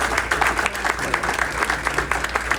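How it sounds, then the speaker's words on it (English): A small audience at a memorial walk celebration gives a round of applause, with scattered, uneven clapping heard in a brief burst. "So we can please give them a big round of applause."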